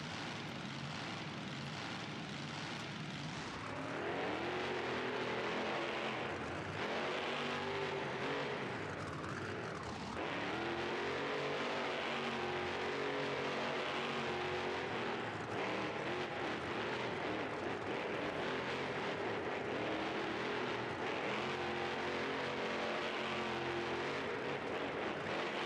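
Team Scream monster truck engine sounds in the BeamNG.drive video game: a loud, sustained roaring engine with rising and falling revs across several long pulls, mechanical and continuous with no talking.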